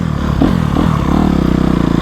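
A 2020 motocross dirt bike running on a track, its engine droning steadily and loudly up close, with a slight rise in pitch and some clattering from the ride.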